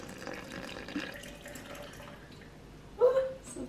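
Filtered water runs and splashes into a bowl for a sourdough starter, a soft trickling pour that swells into a louder splash near the end, close by in a quiet kitchen.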